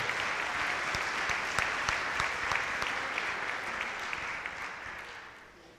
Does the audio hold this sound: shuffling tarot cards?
no